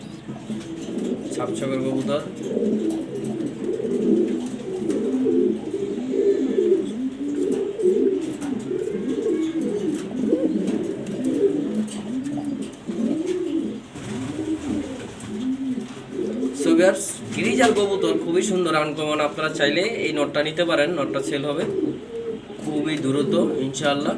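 Pigeons, among them a uncommon pied Nat pigeon, coo in continuous low, rolling phrases, close and fairly loud, and chirps join them partway through.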